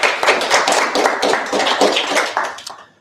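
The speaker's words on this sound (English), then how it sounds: "So let's welcome him with a round of applause." An audience at a PyData tech meetup claps to welcome a speaker to the stage: dense, close applause for about three seconds that thins out and fades at the end.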